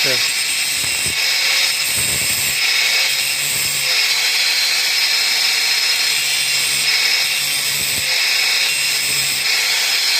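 A saw chain being sharpened, a steady grinding whir running throughout with a few short knocks and clicks, close and fairly loud, while someone talks over it.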